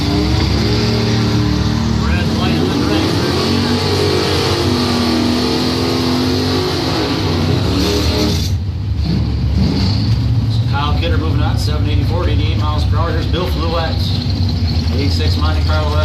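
Drag racing cars with a 350 small block Chevy, including an '86 Monte Carlo SS, rev and accelerate loudly down the strip, a continuous roaring engine drone throughout while an announcer talks over it.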